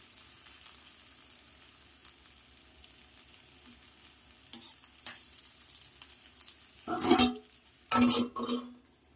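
Ivy gourd (dondakaya) pieces frying in a pan, a quiet steady sizzle broken near the end by a few loud scraping bursts of stirring close by, with no talking.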